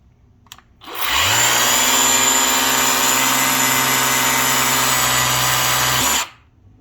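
A Ryobi EZ Clean cordless pressure washer sprays on its high power setting, a steady loud whining motor and hiss starting abruptly, running unbroken for about five seconds, then cutting off.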